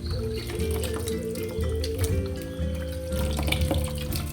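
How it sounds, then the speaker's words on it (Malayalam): Soybean chunks are rinsed under a running tap at a kitchen sink, a close, continuous gush of water with sloshing and dripping through the whole short stretch, no talking. "ഞാനൊന്ന് കഴുകിയെടുത്തിട്ട് വരാം കേട്ടോ."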